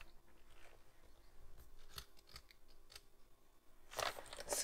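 Scissors snip through paper while a scrapbooking card is trimmed, a few faint crisp cuts followed by one louder, close, sharp snip near the end, with no talking.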